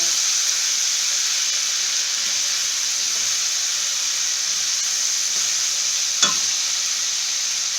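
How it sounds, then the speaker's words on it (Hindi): Ginger garlic paste and green chili frying in a pan, a steady loud sizzle that holds evenly throughout, with one brief scrape of stirring near the end. "हल्का ब्राउन होने तक इसको हमने फ्राई करना है।"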